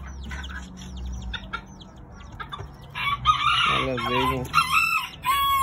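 Roosters for sale crow loudly several times close by, mixed with clucking and other fowl calls, while someone talks over them.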